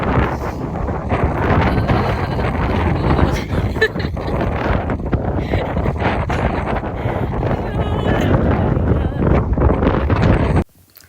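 Cold wind at St Kilda beach in Melbourne buffets the microphone in a loud, continuous roar that rumbles and gusts for about ten seconds before cutting off abruptly.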